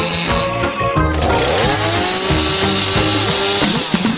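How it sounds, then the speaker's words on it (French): Saw chopping a cabbage into small pieces in a kitchen, a loud continuous buzzing motor-like rasp with shifting pitch running throughout, no talk over it. "J'ai besoin d'une scie."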